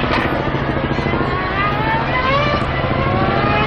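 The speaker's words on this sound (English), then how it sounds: "I didn't know helicopters can go that low." At a motor racing circuit, a loud engine drone fills the air, steady and close, with a tonal whine rising slightly over a few seconds, consistent with a helicopter flying low overhead.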